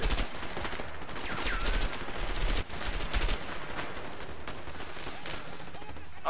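Gunfire in the video game A Way Out, a sustained exchange of rifle and automatic shots, loud and close, rattling continuously with a brief dip partway through.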